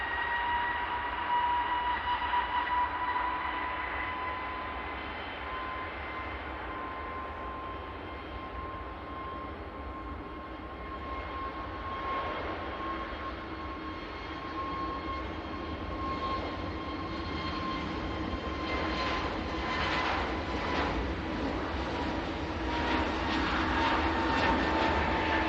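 An easyJet airliner arrives at Manchester Airport with a steady engine roar and a distinct high whine, growing slightly louder as it approaches for touchdown.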